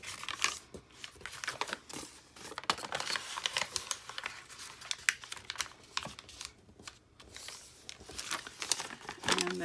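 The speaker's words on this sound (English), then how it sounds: "Then you're gonna unfold it and fold it back towards the center." Paper being folded by hand while making junk journal tags and journaling cards, giving close, crisp crinkles and soft creasing rustles in irregular bursts with no talk.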